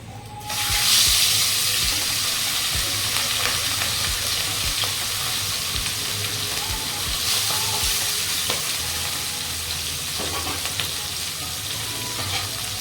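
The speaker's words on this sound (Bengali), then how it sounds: "বাকি মাছগুলো ভেজে নেব" Katla fish pieces fry in hot oil in a pan with a loud, continuous dense sizzle, broken by scattered crackles and occasional clinks of utensils.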